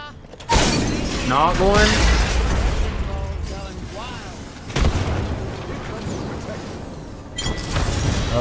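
Frag grenade explosion in a video game shooter: sharp booming blasts with shattering debris, one loud burst near the start and others later, with a brief spoken remark over the noise.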